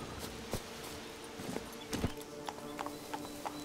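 Hooves clop as Roach, the horse in The Witcher 3: Blood and Wine, trots along. The hits are distinct and spaced in a loose, uneven rhythm, moderately quiet over a faint game ambience.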